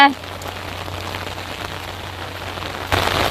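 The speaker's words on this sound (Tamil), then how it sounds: "மழை வந்துச்சு இந்த மழையிலே தாங்க போயின்னு இருக்கேன்" Steady rain falls on surfaces outdoors, a dense even hiss close by that swells louder near the end, with no speech over it.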